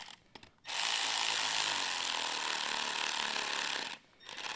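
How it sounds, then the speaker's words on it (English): A ratchet drives a threaded insert into wood, giving a loud, rapid continuous clicking burst of about three seconds, with quieter handling noise before and after. "you would thread it on the bolt and then use a ratchet to drive it in the hole"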